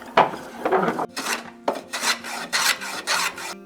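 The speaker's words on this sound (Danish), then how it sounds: "tager vi et profilhøvl og høvler den op på håndkraft" A wooden molding is shaped by hand with a profile plane in an antique restoration workshop, giving a series of about seven close, rasping strokes, each a short scraping burst separated by brief pauses.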